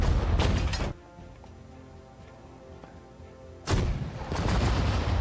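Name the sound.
artillery and mortar fire in video game Sudden Strike 4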